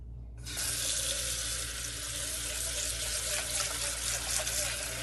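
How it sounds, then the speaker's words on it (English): Tap water runs steadily into a pot of uncooked rice at a kitchen sink, starting abruptly and continuing as a close, even rush of flowing water with no talking. "then you just put in some water"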